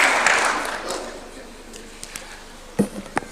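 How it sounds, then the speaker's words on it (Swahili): Applause at a State House reception in Nairobi hosted for the AFC Leopards football club, a broad clapping wash loudest in the first second and fading, followed by a few isolated claps near the end. "Tupigie makofi tafadhali"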